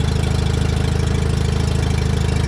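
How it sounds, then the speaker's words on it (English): A John Deere 318 garden tractor engine runs steadily at idle, a loud close rhythmic chugging with a fast even pulse and no voices. "I think this is the 318 that runs really nice"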